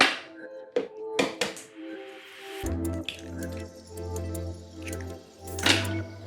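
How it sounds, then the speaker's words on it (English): Two eggs are cracked into a blender: a few sharp taps and knocks on a hard edge, then the contents drop and splatter with a wet, resonant ring inside the jar, close and moderately loud. "We'll crack in our 2 eggs."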